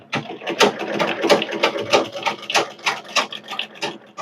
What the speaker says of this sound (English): Now I'm going to sew down on the other side with my stitch width on